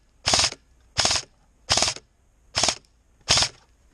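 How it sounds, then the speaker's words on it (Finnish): Airsoft gun firing five short, evenly spaced bursts into the dark during a snowy outdoor game, each burst a loud rapid clatter with near silence between. "Se ampuu tohon pimeeseen pari kertaa, jos siinä on joku."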